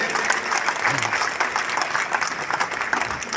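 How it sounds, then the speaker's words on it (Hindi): Audience applause for poets at a devotional poetry festival evening, a steady dense clapping that fills the whole stretch at moderate loudness with a faint voice murmuring underneath. "एक बार फिर आकाश भरी तालियां हमारे कवियों के लिए मिले।"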